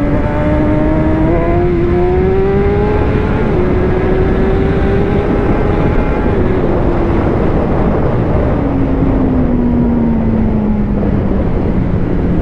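A Suzuki GSX-R 1000 sport motorcycle engine holds a loud, close, continuous roar with pitch shifting up and down as it revs, heard alone without talk.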